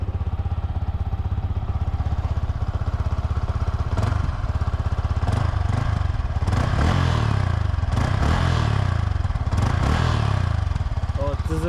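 A new Yamaha R15 sport motorcycle engine idles with a steady close thrum, then revs up in several sharp bursts before settling back, with a faint voice at times.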